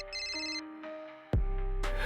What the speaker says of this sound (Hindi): अगर तुमने फोन नहीं उठाया ना पांडे